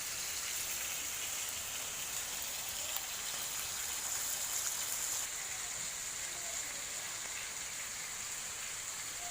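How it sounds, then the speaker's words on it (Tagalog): Rain falls steadily on a small garden, a continuous, even hiss of drops that is dense and moderately loud throughout, with no voices. "Maulan."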